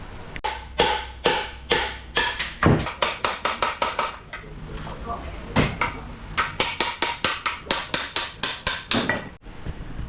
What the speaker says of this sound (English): I've got to bash these out now, so hopefully they come out without causing any damage.